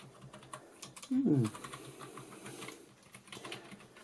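Keys on a cheap Dogxiong Photoshop keyboard being typed on, a rapid clatter of light clicks running steadily through the clip, close up, with one brief louder thump partway through.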